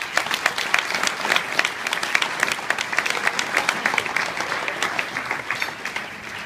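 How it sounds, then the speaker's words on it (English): A roomful of guests at a graduation dinner dance breaks into a round of applause, many hands clapping in a brisk, crackling patter that stays loud and steady, tapering slightly near the end. "I think we owe ourselves a round of applause"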